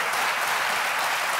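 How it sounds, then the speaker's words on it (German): Studio audience applause on a German TV cooking show, a dense, steady clapping wash from a crowd that holds at full level throughout the short clip, with no voices on top. "dein Applaus jetzt schon mal"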